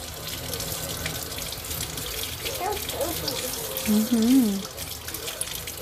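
Water runs steadily from a tap into a sink as hands are washed. The flow is continuous and moderately close, and a brief voice-like sound rises over it near the end.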